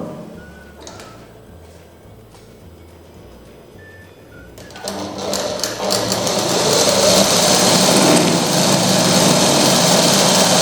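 A sewing machine stitches a French seam along the wrong side of the fabric, starting after a quiet stretch with faint bird calls and building into a loud, close, continuous whir.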